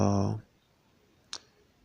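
A single short computer mouse click, crisp and close, comes just after a voice stops, then quiet.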